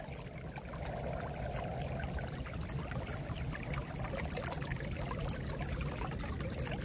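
Flash floodwater discharging out of a leach line acting as a drain outlet, a steady rushing pour of water, close and constant.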